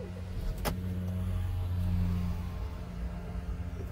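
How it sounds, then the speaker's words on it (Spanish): A car engine cranks and fails to catch, giving a steady low rumble with a brief sharp click near the start, heard close with no talking. "Otra vez va a encender. Otra vez falla el motor."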